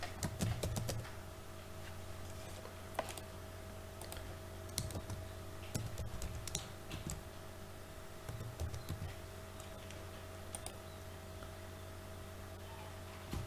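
Username and password being typed on a computer keyboard for a Salesforce login, heard as quiet, scattered key clicks and taps against a low steady hum, with no talking.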